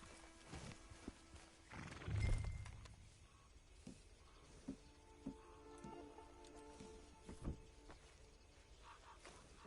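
A horse in the video game Red Dead Redemption 2 gives a sharp whinny and snort, followed by a few soft hoof clops and quiet snuffling, heard close and fairly faint with no talk over it.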